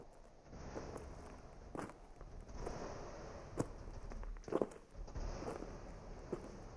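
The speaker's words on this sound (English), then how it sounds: "Suddenly, I heard footsteps." A footsteps sound effect in an audio drama: faint, uneven steps with soft scuffs and a few sharper thuds, quiet and isolated with no talking.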